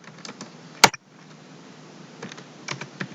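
Computer keyboard typing at a desk, a few separate key taps and short bursts, with one sharp louder clack near the start, fairly close and otherwise quiet.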